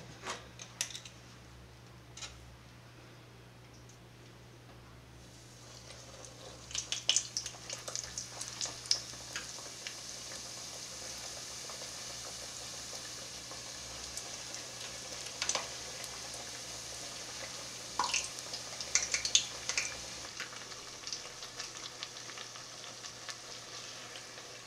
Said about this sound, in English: Let's fry our first donut.